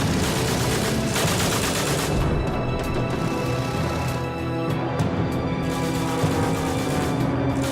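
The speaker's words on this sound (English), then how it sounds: "he waited until he was less than 15 feet away before firing his Lewis gun directly into the cockpit above" A Lewis gun firing from a World War I fighter plane in aerial combat, dense rapid bursts of automatic gunfire filling the air almost continuously, loud and close with overlapping booms.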